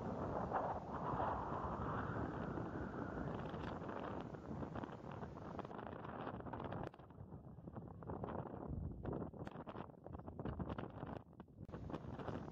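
Strong, steady wind roars across sand dunes and buffets the microphone throughout, with gusty rumbling low noise and no voices.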